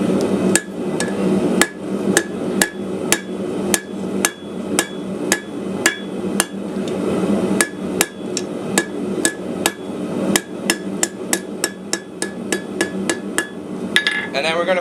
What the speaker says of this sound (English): we're going to hit it, round off the tip